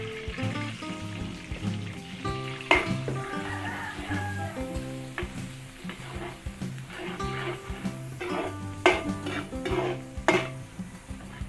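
Garlic fries in margarine or oil for a Filipino dish, a soft steady sizzle with occasional utensil scrapes and clinks from stirring, heard under background music.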